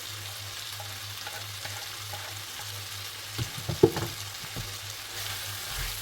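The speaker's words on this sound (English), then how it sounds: "I'm going to cook this chicken and onion until the onions are cooked" Chicken and onion frying in a pan for a pie, a soft continuous sizzle with a burst of stirring and utensil scrapes partway through.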